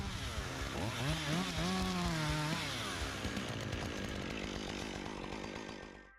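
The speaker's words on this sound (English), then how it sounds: "Cutting trees at such a height, the worker needs to use a saw of small and medium size too." A Stihl MSA 120C BQ chainsaw cutting into a tree high up, a steady loud motor whine rising and falling in pitch as the chain bites the wood, running continuously and easing off at the end.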